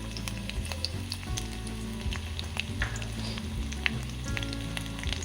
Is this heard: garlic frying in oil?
yes